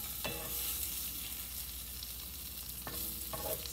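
Pork pieces frying in a pan right after sausage, with a steady broadband sizzle throughout and a few brief stirring clatters near the start and toward the end; no one speaks.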